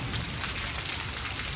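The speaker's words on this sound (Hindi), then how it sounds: "अभी बरसात का मौसम हो रहा है, बारिश हो रही है।" Steady rain falling during the rainy season, a dense, continuous hiss of drops on surfaces filling the whole stretch at an even level with no voices.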